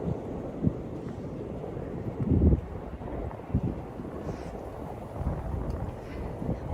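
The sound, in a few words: wind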